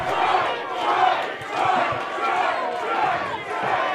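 A wrestling crowd roars in a steady, dense wash of cheering and shouting that swells and eases in waves, filling the whole space without pause.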